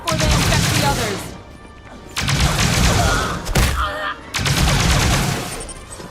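Rapid bursts of gunfire in the Star Wars Genesis video game, aimed at infected enemies, come in three loud, dense volleys separated by brief lulls.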